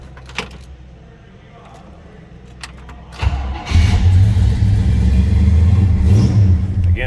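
Big-block V8 in a 1955 Chevrolet 210 two-door post cranks and fires, a rising roar settling into a loud, deep idle after a brief jangle of keys and some quiet handling noise.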